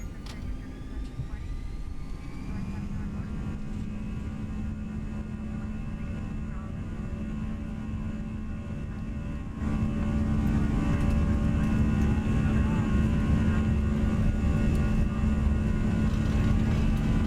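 An airliner takes off in X-Plane, heard from the cockpit on a night flight over Germany: a steady, loud jet engine drone that climbs in power a few seconds in, then surges louder again about halfway through the roll.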